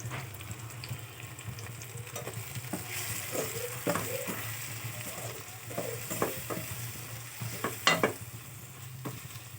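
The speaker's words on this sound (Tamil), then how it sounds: "எல்லா மசாலாவும் ஆட் பண்ணி நல்லா மிக்ஸ் பண்ணி விட்டுக்கோங்க" Masala spices being stirred and fried in a pan for a karamani (black-eyed pea) curry, with a steady low sizzle and irregular scraping strokes of the spoon close by, no voices.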